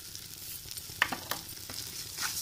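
Khoya and sugar stirred and fried together in a pan for til mawa laddoo, a soft steady sizzle with a few light scraping knocks of the spoon, fairly quiet and close, no voices.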